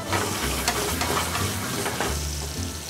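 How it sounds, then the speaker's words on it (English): Roasted garlic confit sizzles steadily in hot oil in a pan while mussels are prepared, a loud continuous frying hiss with faint stirring scrapes, close and without talk. "First thing we're gonna add is that garlic confit, the roasted garlic that we used earlier. Hear that sizzle,"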